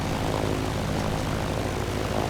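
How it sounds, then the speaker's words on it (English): A Grumman F4F-4 Wildcat warbird's propeller engine runs with a loud, steady, unbroken roar, close by and with no voices over it. "we've got the wobbling of the aircraft with the movement of the engine vibrating through the aircraft"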